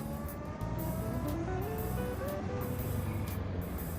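A vintage Rolls-Royce car rolls along in third gear, producing a steady low engine and road rumble with a gliding tone and faint intermittent higher hiss, fairly quiet throughout.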